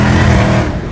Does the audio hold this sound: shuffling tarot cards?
no